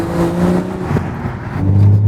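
A Toyota Supra engine with a new downpipe exhaust revs up and settles, a close, loud tonal drone that dips briefly, then climbs again into a deeper rising growl.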